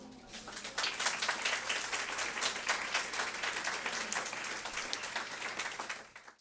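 Applause from an audience after a limerick is recited, a dense wash of clapping that swells in about a second, holds steady and fades out near the end.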